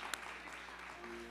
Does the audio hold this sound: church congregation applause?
yes